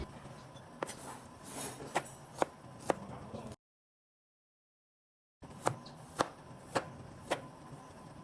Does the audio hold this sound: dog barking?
no